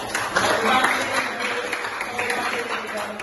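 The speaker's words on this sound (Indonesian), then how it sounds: "Tepuk tangan dong." Students clapping in a ninth-grade Indonesian language classroom, a scattered ripple of hands that rises and falls over a few seconds, with voices murmuring through it.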